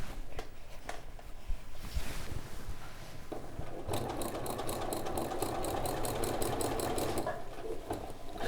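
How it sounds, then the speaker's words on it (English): Sewing machine top-stitching along the bottom edge of a fabric beach bag, starting with scattered handling noises and then a steady rapid mechanical whir with rhythmic needle ticks running for several seconds, fairly close and without voices. "I'm just going to follow that line of stitching"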